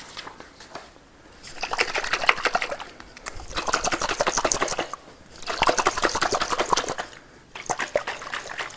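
Salad dressing being mixed in a container, giving rhythmic sloshing and liquid agitation in several bursts separated by brief pauses, close and moderately loud, with no talking.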